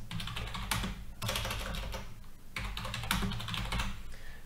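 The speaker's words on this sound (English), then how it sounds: "Type a reason." Rapid, steady typing on a computer keyboard at close range. Dense key clicks run in bursts with brief pauses, over a constant low background hum, and no voices are heard.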